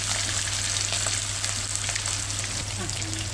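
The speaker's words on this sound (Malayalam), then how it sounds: "നമുക്ക് കാട ഫ്രൈ ചെയ്തെടുക്കാം." Quail frying in hot oil in a pan, a steady loud crackling sizzle that stays dense and even throughout, close up with a low hum underneath.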